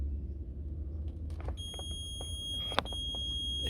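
A multimeter beeps while wires are tested on a Mercedes Sprinter, a former ambulance. A steady, high electronic tone starts partway through and holds over a low background rumble.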